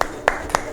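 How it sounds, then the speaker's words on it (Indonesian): Classroom applause at a madrasah: a few sharp bursts of hand clapping spaced evenly apart, fairly close and not very loud, with no talk over them. "Beri tepuk tangan."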